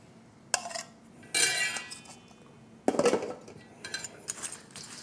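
Chopped dill pickles get stirred into potato salad in a bowl: a few separate clinks and scraping bursts of utensil against dish, sharp and close, with quiet gaps between them.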